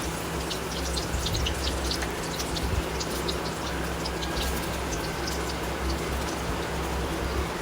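Chicken kabab pieces fry in hot coconut oil with a dense, even crackle and spatter that sounds much like steady rain. A low hum runs underneath, and the sound stays close and constant with no talking.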